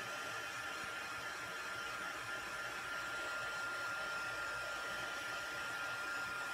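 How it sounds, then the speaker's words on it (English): A craft heat tool blows steadily to dry stamped ink on a vellum card project, giving a constant loud hiss of air that runs unbroken from start to finish with no talking. "I'm going to just take my heat tool. I'm going to heat it up for a second."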